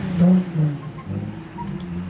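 A parked drift car's engine, with its clutch worn into a grabbing condition, gives a loud, close, throaty rev that swells briefly and then settles into a rough idle outside a Burger King.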